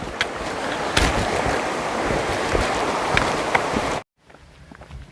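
A flowing stream beside the Appalachian Trail rushes steadily nearby, a dense broadband wash with small splashes, then cuts abruptly to a much quieter outdoor background for the last second.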